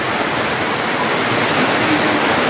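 Water from heavy rain streams down off a rooftop terrace in Savar Kundla, a dense, even roar of pouring and splattering that holds steady throughout with no voices.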